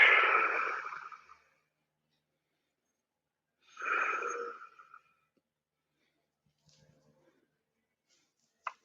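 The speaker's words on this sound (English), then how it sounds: "Breathing in through the nose, out through the mouth." Two long, breathy exhales a few seconds apart, each a soft airy rush, during a stretching routine with breaths drawn in through the nose and let out through the mouth. Faint rustles follow in the quiet.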